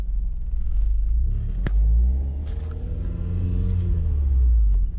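A Toyota Caldina with the 3S-FE engine accelerates in first gear on a test drive, a close, loud engine rumble whose pitch climbs steadily, with a brief click near the start and no talking.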